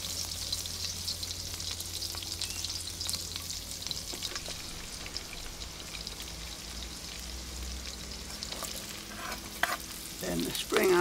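Garlic and onions fry in a pan with a steady sizzle and crackle like light rain, close and continuous, and a few sharper stirring clatters toward the end.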